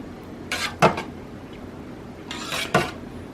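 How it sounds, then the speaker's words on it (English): A fish spatula stirs cheese curds in a pot in two short bursts, each a brushing swish ending in a sharper scrape or knock against the pot, with quiet pauses between. "and just stir it up. Notice I'm using a fish spatula, but I just want things to get stirred up pretty well."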